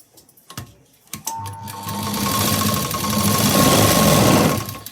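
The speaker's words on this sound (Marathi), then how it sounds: "आता इथे मी बाही स्टिच करून घेणार आहे." A sewing machine stitches a size 38 garment sleeve at close range. A few short clicks come first, then the motor runs in a steady, loud whirring burst for several seconds before slowing.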